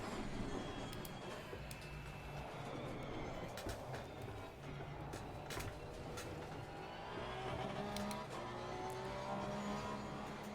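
A race car in Assetto Corsa Competizione drives at speed, its engine a sustained, quiet high-pitched whine with rising pitch sweeps and sharp gear-shift clicks breaking through repeatedly.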